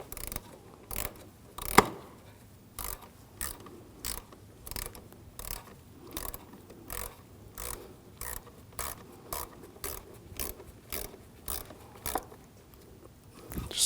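Headlight screws on an Audi S4 are tightened with a ratchet, making a steady series of sharp, close clicks in a regular rhythm over the whole stretch, with a louder knock near the start.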